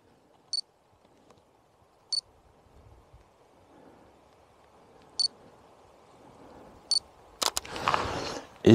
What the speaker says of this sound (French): Je vais essayer de vous les prendre au moins en photo.